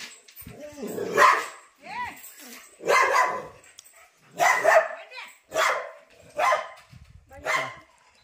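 Dogs bark repeatedly nearby near a peacock, about seven sharp barks and yips in an uneven rhythm, with voices mixed in.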